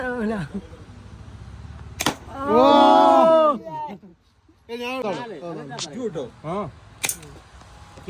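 An air gun at a balloon-shooting stall in Kodaikanal fires two sharp, close snaps several seconds apart, set among lively nearby chatter.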